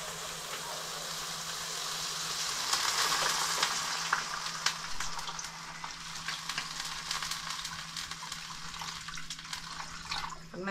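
Escabeche sauce with ginger, chili, water and ketchup bubbles and simmers in a pan, a steady close sizzling hiss with faint clinks, with no one speaking.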